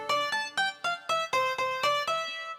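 An early-1980s-style sampled grand piano from the UVI Darklight IIx Fairlight emulation plays about eight evenly spaced notes, each with a sharp attack and a short, slightly grainy decay, heard clearly with nothing else around.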